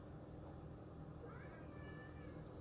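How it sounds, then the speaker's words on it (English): A pet cat meows faintly indoors, a couple of thin rising calls in the latter half over a quiet room hum, with no talking. "My cat"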